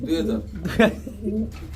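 A pigeon gives a soft, low coo close by, mixed in with someone talking.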